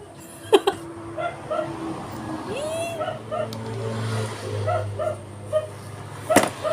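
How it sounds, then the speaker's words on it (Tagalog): Dogs yip and bark repeatedly at close range, mixed with whiny whimpers and a sharp high bark near the end. "Ingay ng mga aso namin."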